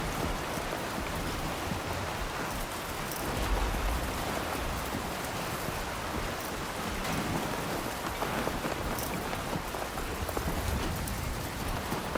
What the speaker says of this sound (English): Storm's coming through.